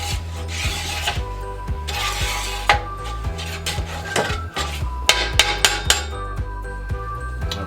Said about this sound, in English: Take my spatula, move some of that around.